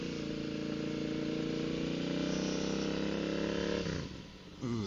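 A Royal Enfield motorcycle engine fitted with a DNA performance air filter and free-flowing exhaust idles with a deep, throaty exhaust rumble, steady and close, then briefly dips before picking back up near the end.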